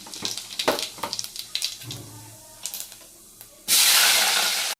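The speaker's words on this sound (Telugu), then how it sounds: "వంకాయ ఎండు రొయ్యలు వండుతున్నాను" Brinjal and dried shrimp hit a hot pan with intermittent clinks and stirring, then a loud, steady sizzle erupts and holds close to the end.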